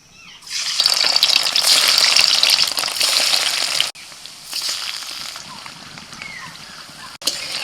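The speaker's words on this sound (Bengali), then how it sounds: "তেল গরম হয়ে গেছে, এবার একে একে পনিরগুলো ভেজে নেব।" Paneer pieces drop into hot oil, setting off a loud, rushing burst of sizzling that settles after a few seconds into a quieter, steady frying crackle.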